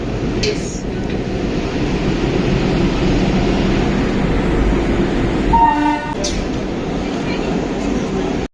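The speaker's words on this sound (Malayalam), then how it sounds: "bye bye Vande Bharat thank you for the experience" A Vande Bharat train at Chennai Central station, a loud continuous rumble of rail cars and station noise with a short horn-like tone midway, all close and filling the scene.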